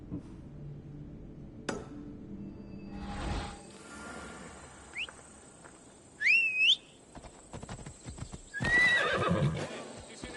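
Horse in the Assassin's Creed Odyssey video game, hooves clip-clopping under ambient game sounds, with a loud neigh midway and whistling tones, no speech heard.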